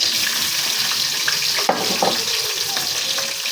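Onions and chillies hiss and sizzle in hot oil in a pan, a steady bright crackle with a few clinks and stirring scrapes, no voices.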